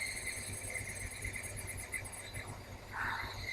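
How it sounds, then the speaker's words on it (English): Higurashi cicadas in Japan, as heard in the game When They Cry, trill in a steady high-pitched chorus with layered, pulsing tones and a brief louder swell near the end. "All I can hear are those disgustingly noisy Higurashi, which are cicadas in Japan"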